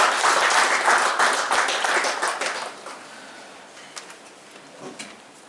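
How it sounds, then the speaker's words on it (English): An audience at a conference valedictory session applauds to welcome a guest of honor. The clapping starts full and loud, then thins out and fades over a few seconds until only a few scattered claps remain. "Give a big applause."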